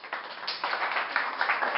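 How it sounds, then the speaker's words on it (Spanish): Children clapping together during a classroom game at a school, a quiet, scattered patter of small hands lasting a couple of seconds with no talk over it. "un aplauso"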